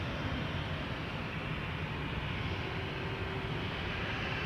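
KLM Boeing 737-800 taking off from Schiphol's Polderbaan runway, a steady distant jet roar with a broad rumbling hiss, fairly faint and unchanging throughout.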